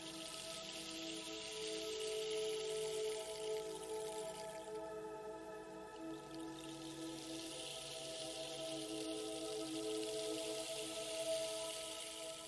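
Steady rain falls through a misty cloud forest, a constant soft hiss of drops on leaves with no talk, holding at an even, moderate level throughout.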